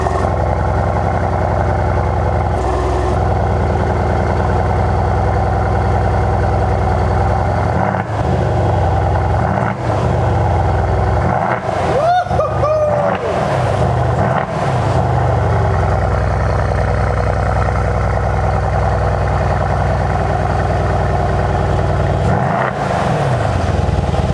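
A V8 car engine idles loudly and steadily nearby with a deep continuous rumble and small swells in tone throughout.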